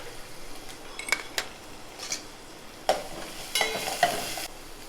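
Masala for an egg curry with curry leaves, coriander and garam masala sautés quietly in a pan. A low sizzle runs under several sharp clinks and scrapes of a spoon against the pan.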